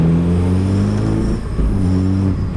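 A Dallara Stradale supercar engine pulls hard under acceleration, a loud, steady low harmonic drone rising in pitch close up, with a brief dip midway before climbing again.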